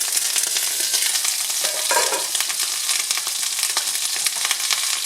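Eggplant frying in a covered pan, a steady dense sizzle and crackle lasting throughout at even loudness, with no talking.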